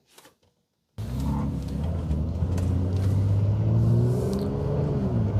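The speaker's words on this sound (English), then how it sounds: "The exhaust is music to my ears." A 2018 Mercedes-AMG GLC43 pulls away after a brief quiet moment, its engine and exhaust starting into a steady deep rumble that climbs gradually as it drives off, close and loud with no talk.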